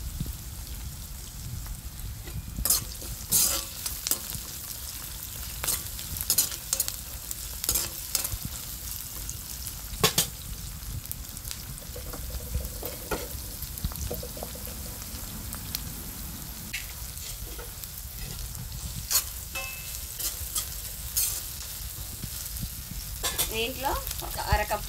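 Curry leaves fry in hot oil in a pan while making an ivy gourd chutney, giving a steady sizzle throughout with scattered stirring scrapes and clinks, close and at moderate level.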